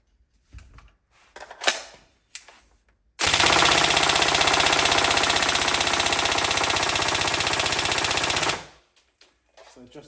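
Tokyo Marui M4 URGI NGRS electric airsoft rifle with its adjustable motor turned down, firing one sustained full-auto burst of about five seconds, loud and close, with a fast, even buzzing rattle and only faint handling noises around it.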